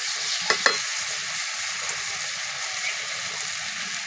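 Water added to fried spices for aloo posto hisses and sizzles in a hot pan, a steady close frying hiss with a couple of brief sharp clinks near the start, no voices.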